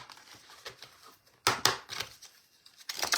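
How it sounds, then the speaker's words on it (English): Tarot cards are shuffled close by, giving soft papery riffles and flicks in short irregular bursts with quiet gaps between them, and no one speaks. "I'm going to shuffle them again."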